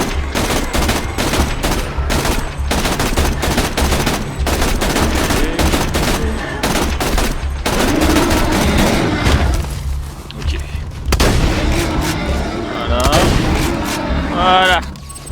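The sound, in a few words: gunfire from a weapon in the video game Borderlands 2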